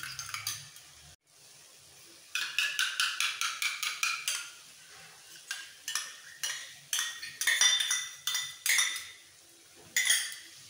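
Metal utensil whisking three spoons of yogurt in a bowl while spices cook, heard as bursts of quick rhythmic clinking and scraping, loud and close, separated by short pauses.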